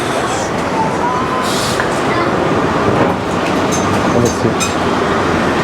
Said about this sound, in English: I'd like to show you guys this indoor train